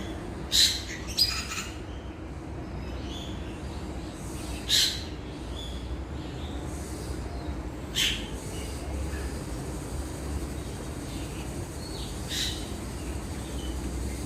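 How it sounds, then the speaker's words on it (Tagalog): An owl calls in a park, sending out a few short, sharp cries spaced several seconds apart over a steady outdoor hum of insects and distant background noise. "Ayan yung owl."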